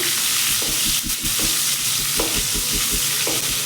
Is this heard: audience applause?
no